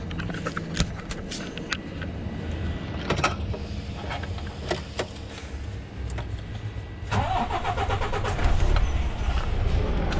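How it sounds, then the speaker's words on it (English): An HGV truck engine cranks and catches, settling into a rough idle with clicks and mechanical rattles close by, growing louder toward the end. "So I'm going to start the engine now."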